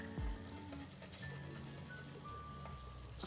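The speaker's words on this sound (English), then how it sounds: "So I'm trying to deglaze the pot because all the flavor is like trapped at the bottom" Beef stew pot being deglazed on the stove, with steady sizzling and frying hiss throughout and scraping at the pot bottom, close and continuous.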